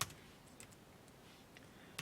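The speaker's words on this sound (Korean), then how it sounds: "그냥 이번에는 그냥 타이핑 치는 거라 어렵지 않네요" Typing on a computer keyboard while entering a document in Hancom Hangul (NEO) for an ITQ exam, soft scattered keystroke clicks close by with clearer taps at the start and end, quiet and alone.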